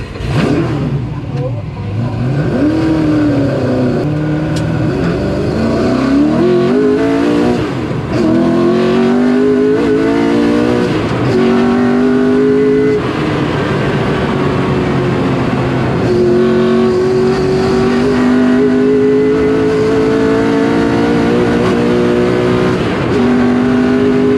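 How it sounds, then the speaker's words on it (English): An old car's engine revs hard and steadily climbs in pitch as it is pushed into a corner, loud and raw, with the whine rising and holding under a continuous roar. "The noise, how raw it sounded, how far he pushed this old car into a corner"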